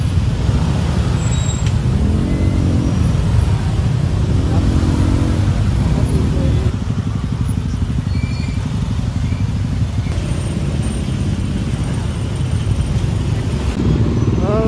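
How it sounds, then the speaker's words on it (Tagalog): Heavy road traffic on the way to the UN during a rally: a loud, steady wash of car, bus and motorcycle engines with rumbling idling and passing vehicles, a brief air-brake hiss, and faint voices underneath. "Kami po ay sobrang traffic dito sa sa papuntang UN."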